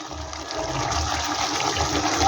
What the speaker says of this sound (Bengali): জলটা আমি দিয়ে দিলাম